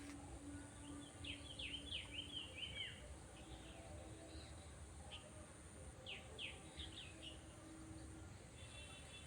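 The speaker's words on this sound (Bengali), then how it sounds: "এখানে শুধুই পাখিদের কলরব।" Wild birds calling in a quiet natural spot with no human noise: faint, distant chirps and twittering trills come in two short bursts over a steady background hiss.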